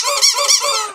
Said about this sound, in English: That's a double squeaky for Winston.